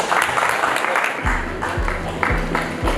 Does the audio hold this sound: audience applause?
yes